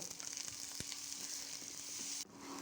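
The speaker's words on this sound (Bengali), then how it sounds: "কড়াইতে তেল গরম করে সেই টুকরোগুলিকে দিয়ে একটু হলুদ আর লবণ দিয়ে কিছুক্ষণের জন্য নেড়ে চেড়ে ভেজে নেব" Jackfruit pieces seasoned with turmeric and salt fry in hot oil in a wok, giving a steady, close sizzle and crackle throughout with a brief stir sound partway through.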